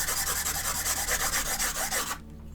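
Charcoal stick scraping and rubbing across paper while drawing a portrait, a steady close rasping of rapid repeated strokes that stops abruptly near the end, with no talking.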